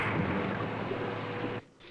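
A torpedo explosion effect from the Cyborg 009 animated series: a dense, roaring blast that sustains loudly for about a second and a half, then cuts off abruptly into quiet.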